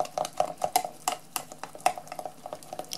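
A utensil stirs a thick henna and shea shampoo mixture in a bowl, giving light irregular clicks and scrapes, close and fairly quiet.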